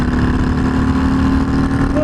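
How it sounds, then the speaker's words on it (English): Loud, steady engine drone of a 2020 Harley-Davidson FXDR 114 motorcycle pulling hard in sixth gear, heard from the rider's position with strong wind rumble throughout. "that's 6th gear and it just accelerates straight away"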